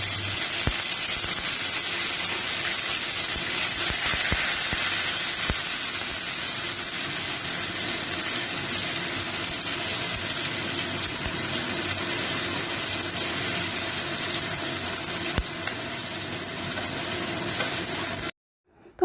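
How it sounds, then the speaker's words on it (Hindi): Onion paste frying steadily in a pan for a Bengali doi katla fish curry, a dense continuous sizzle that holds at even loudness throughout and then stops abruptly at the end. "तो अब मैं इसमें ऐड करूँगी अनियन पेस्ट और इसे अच्छे से फ्राई कर लूँगी"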